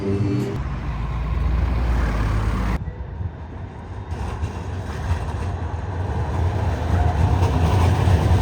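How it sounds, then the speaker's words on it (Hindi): Broad rumbling and hiss fill the main train station in Saarbrücken, Germany, a loud, steady wash of rail and traffic noise that dips briefly near the start and then builds again, with faint voices mixed in. "ये यहाँ का मेन ट्रेन स्टेशन है"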